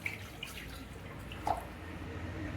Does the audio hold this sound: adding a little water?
yes